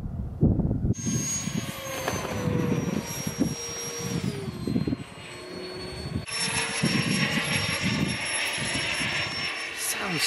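An electric ducted fan jet model glider flies overhead, its loud, steady turbine-like whine sliding in pitch as it passes, with the roar continuing for about ten seconds and murmurs of voices beneath.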